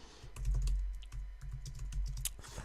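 Fingers tap quickly on a computer keyboard, with irregular close clicks in bursts and short pauses, over a low background rumble.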